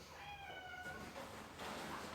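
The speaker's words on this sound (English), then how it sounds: "The cat wants to go outside." A cat meows to be let outside: a few rising, drawn-out mewing calls, fairly faint and a little distant, in a quiet room.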